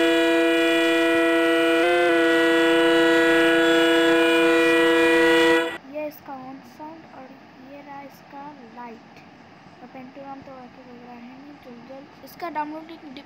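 Horn of a WDP4D Tejas locomotive in Trainz Simulator, a loud, sustained multi-tone blast of about six seconds that cuts off abruptly, followed by someone talking.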